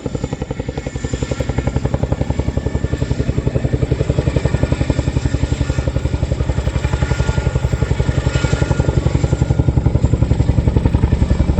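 A military aircraft departing at an air show throbs with a loud, steady rhythmic rotor-like beat and engine drone that fills the whole stretch, close and unbroken with no talk.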